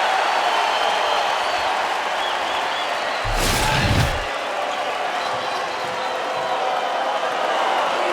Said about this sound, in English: How about this crowd? Unbelievable.